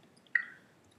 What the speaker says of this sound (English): I'm going to collect this water for a second.